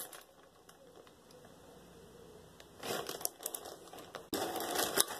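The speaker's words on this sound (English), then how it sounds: "we're gonna open this bag." Crinkling plastic rustles softly, then bursts into louder crackling and tearing as the bag is pulled open, close by with no talking.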